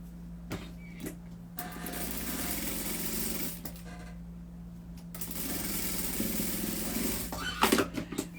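A sewing machine stitching a seam on a cloth doll, its motor buzzing in steady runs broken by short pauses, with a few clicks and handling noises near the end.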